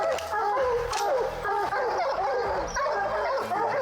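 Hunting hounds bark and yip continuously and loudly at a black bear treed in Wisconsin woods, a dense overlapping chorus of barks with whimpers throughout, close by.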